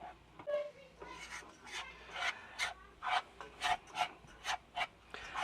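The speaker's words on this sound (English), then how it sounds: "You want to constantly stir this and cook it over low heat." Potassium nitrate and powdered sugar rocket candy being stirred in a pot over low heat, a steady run of scraping, rasping strokes that grow louder and more rhythmic, close and alone with no talk.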